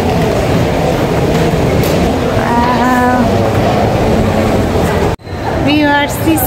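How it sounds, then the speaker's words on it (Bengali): The Sky Train at Jewel, Singapore's Changi Airport, runs past as a continuous rumbling roar under a voice talking nearby, with a brief break near the end before the noise resumes. "স্কাই ট্রেন চলতেছে ওই যে"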